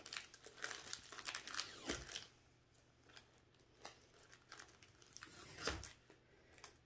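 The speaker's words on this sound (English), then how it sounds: "Just go ahead and use your scissors and just curl away." Crinkly rustling and scraping of ribbon being curled with scissors, several quick strokes close by, fairly quiet with no talking.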